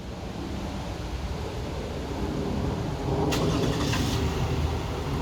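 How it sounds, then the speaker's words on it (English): A 2011 Toyota Highlander engine starts by remote start, a brief broadband burst of cranking that settles into a steady, moderately loud idle over a constant background rumble. "Truck starts up, runs for about 15 minutes, and then will shut itself off."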